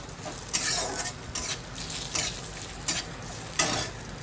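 Rice is stirred in a hot pot for pulao, producing a steady sizzle with periodic scraping strokes of a utensil roughly every second, moderately loud and with no voices.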